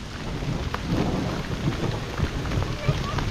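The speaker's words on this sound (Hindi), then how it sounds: "तो आसमान भी कड़क रहा है," Heavy rain pours steadily in a Uttarakhand mountain forest while low rumbles of thunder roll in the background, close and continuous without a pause.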